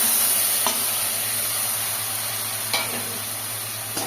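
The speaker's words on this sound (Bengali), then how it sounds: "মশলাটাকে ভালো করে কষিয়ে নেব" A ground paste of cumin, ginger, coriander and chili sautés in hot oil with a steady close sizzle and hiss, broken by a couple of soft stirring scrapes, with no talking.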